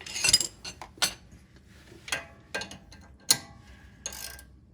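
Ratchet wrench tightening a bolt on a 2003 Jeep Wrangler TJ tie rod, sharp metallic clicks and clanks in irregular bursts with short pauses between, close and fairly quiet, no talking.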